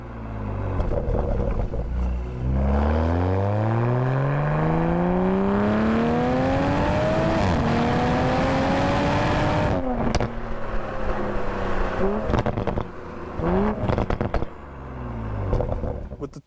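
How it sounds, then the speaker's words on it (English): A Toyota Supra 2.0 engine and exhaust rev hard and close, the pitch climbing through the gears before lifting off into crackles and pops. "when you lift off the throttle, you're given such a musical experience that's so violent and addictive"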